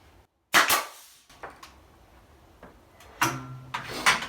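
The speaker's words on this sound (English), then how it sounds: "I just was shooting these nails through here, and all of a sudden I looked up and it shot out all these at one time" A nail gun fires into an old original beadboard ceiling on a vaulted roof, a few sharp close bangs spread irregularly with a ringing clatter after each, no voices.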